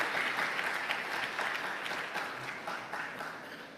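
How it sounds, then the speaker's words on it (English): An audience applauds at the opening of an annual Commonwealth conference, a dense wash of many hands clapping that starts full and gradually fades over a few seconds. "And that deserves a round of applause as well."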